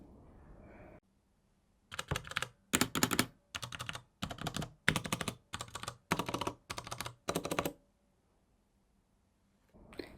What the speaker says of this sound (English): I'll let you hear the difference between the keys with just switches and the ones with both switches and stabilizers, remembering that I've specifically got brown switches